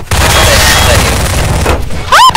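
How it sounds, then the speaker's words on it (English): Gunshots in the Garry's Mod prop hunt game, a dense loud barrage of rapid fire filling the scene, with a voice cutting in at the end. "They shooting at you almost hit me."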